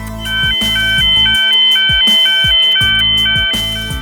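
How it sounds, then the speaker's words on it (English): A loud electronic alarm repeats a rising two-tone beeping pattern over a steady pulsing background, continuous for several seconds. "The security alarm sounds like this."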